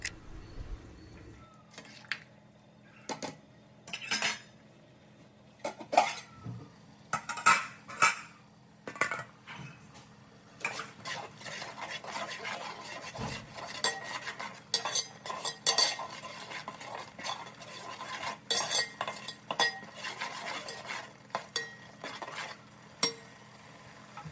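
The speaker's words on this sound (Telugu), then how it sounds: "బియ్యం వేసిన తర్వాత వేయించుకున్న ఆనియన్స్ కూడా వేసి బాగా కలుపుకోవాలి" Rice and fried onions being stirred together in a pot for egg dum biryani, a series of irregular scraping and clinking strokes of a spoon against metal, close and fairly quiet, with a faint sizzle beneath.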